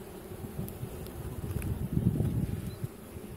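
Honeybees fanning at the entrance of an outdoor hive, a steady close buzzing drone with a slight swell in the middle and light wind noise, no voices.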